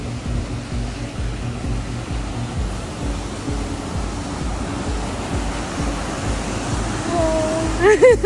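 A waterfall on the Ingleton trail near Carnforth, UK cascades down in several streams as a steady, close rushing roar. A voice briefly rises over it near the end.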